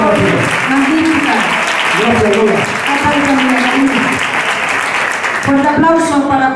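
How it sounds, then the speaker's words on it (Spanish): Audience applause at the end of the first act of a theatre show, sustained clapping from a crowd running underneath a voice speaking over it throughout. "Fuerte aplauso"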